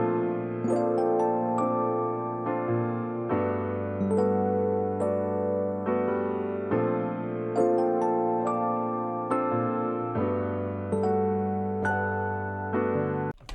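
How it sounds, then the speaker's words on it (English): Xenology electric piano, Pt.2 patch, playing a chord progression in a sample, held chords changing every couple of seconds with bell-like upper notes, steady and close, no voices. "This electric piano comes from Xenology."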